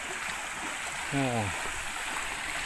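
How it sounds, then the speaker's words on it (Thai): Fast-flowing river water rushes past a riverside landing on the morning of the Loy Krathong festival, a steady broad hiss throughout, with a brief tonal voice-like sound rising over it midway. "น้ำเกินนี่มันเชี่ยวเนี่ยมันเชี่ยวน้ำไหลเชี่ยวเกิน"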